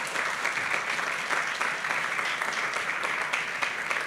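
Audience at an ecology awards gala breaking into strong, continuous applause, many hands clapping evenly and fairly loud throughout the short stretch.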